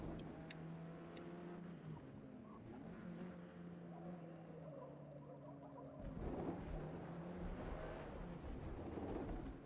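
A Hyundai Veloster N engine in the Forza racing game drones steadily with tonal harmonics that shift pitch, then changes to a rougher, louder roar partway through, with some tire noise mixed in.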